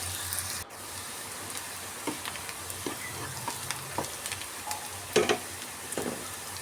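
Chopped onions, two medium ones, frying in a pan and cooked until reddish, with a soft steady sizzle and a few brief stirring scrapes throughout, no talking.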